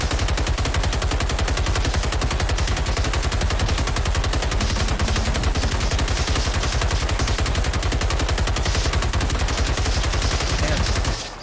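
Rapid, sustained automatic gunfire from the shooter video game Generation Zero rattles loud and continuous for about eleven seconds, then cuts off at the end.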